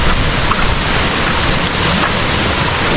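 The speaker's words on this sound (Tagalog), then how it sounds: "At walang tigil ang ambon. Walang tigil ang ulan." Steady broadband wash of rain, constant and fairly loud, with a windy, gusting texture and no voices, at a campsite near Botocan Falls.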